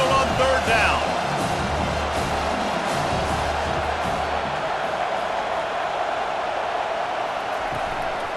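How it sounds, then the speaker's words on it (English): A home crowd in the NCAA Football 25 video game roars steadily through a third-down play, a loud, dense wash of cheering that eases slightly toward the end, with commentary over it. "Here comes this home crowd as the defense tries to get off the field on third down."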